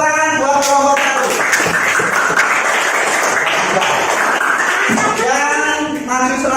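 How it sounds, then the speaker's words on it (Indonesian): A primary school classroom bursts into loud, sustained applause from many children for a group, with a voice speaking at the start and another at the end over the clapping. "Tepuk tangan buat kelompok 1"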